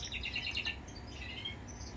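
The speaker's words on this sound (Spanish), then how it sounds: "Echa los pajaritos de Tony, como suenan" Small pet birds chirp indoors in a quick series of high, bright tweets, then a few softer calls over a low background hum.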